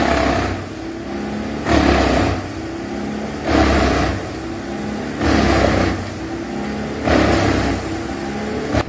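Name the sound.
Bandit 21XP wood chipper engine running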